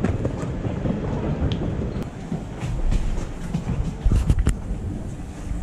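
A local train rumbles steadily along the rails with rhythmic clickety-clack and wind noise, heard from inside a carriage, no talking.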